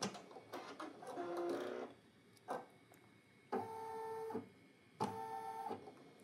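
A Brother PE900 embroidery machine runs in mechanical bursts: a whirring stitch run, a short pause, then two sustained tonal motor passes as the hoop shifts back and forth, all close and steady with no talking.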